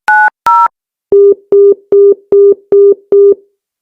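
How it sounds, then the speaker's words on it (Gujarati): A telephone call placed to a switched-off phone gives two short, bright beeps, then six evenly spaced, lower, steady tones, loud and clean with silence between them. "હા દેવરાજભાઈ હા, ફોન તો સ્વિચ ઓફ આવે"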